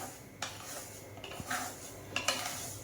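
Chakli bhajani flour being roasted in a pan over a low flame and stirred constantly, a quiet scraping of a spoon against the pan with a few sharper scrapes and knocks over a soft background hiss.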